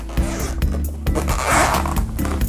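A zipper opening on a small carrying case for a mini massage gun, several quick rasping pulls close to the microphone, with no talk.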